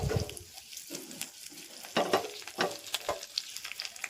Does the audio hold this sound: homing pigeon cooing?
no